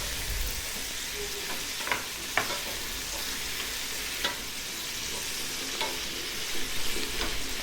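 Roughly chopped tomato and onions sizzle in a pan while being stirred until soft for an egg salna, a steady frying hiss punctuated by scattered spatula taps and scrapes.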